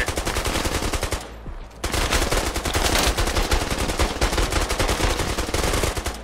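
Sustained automatic gunfire in a military-style tactical game, laying down suppressive fire: dense rapid bursts that run almost nonstop with one short pause, loud and close.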